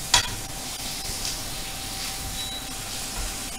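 An American tomahawk pork chop pan-fries in a hot pan, giving a close, steady hiss of sizzling fat that opens with a brief sharp crackle, with no talk.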